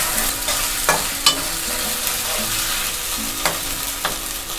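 Tomato fries with spices in a pan under a constant moderate sizzle, with several distinct clinks and scrapes of a stirring spoon spread through it and no one speaking.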